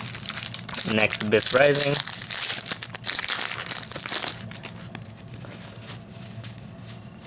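A Yu-Gi-Oh booster pack wrapper is torn open and the foil crinkles in bursts, close and fairly loud at first, then softer rustling as the cards are handled. A person speaks briefly over the start.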